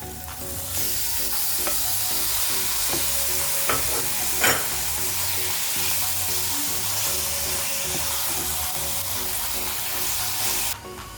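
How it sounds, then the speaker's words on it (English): Mutton mince sizzling loudly as it fries in a pan, stirred continuously with scraping strokes and occasional sharper knocks, steady and close throughout with no talking. "Mix it well and then add the mutton mince."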